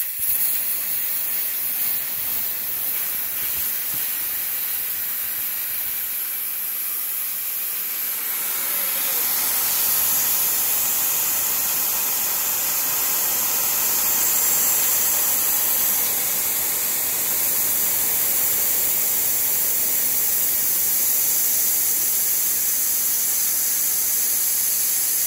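Strong, steady hiss of air escaping from a damaged tire through special valves, starting quieter and swelling into a loud continuous rush after several seconds, with no talking.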